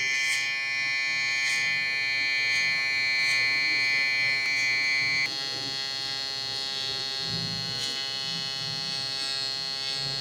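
Electric hair clipper buzzing steadily up close during a low taper haircut on curly hair, a constant high whirring hum that shifts slightly in pitch partway through as the blade moves through hair.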